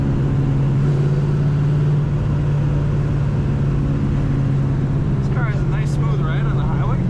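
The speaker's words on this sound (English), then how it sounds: "Smooth ride on the highway." A 1964 Plymouth Savoy cruises on the highway, its engine giving a steady low hum with road rumble throughout; near the end a faint higher squeal or chirp cuts through briefly.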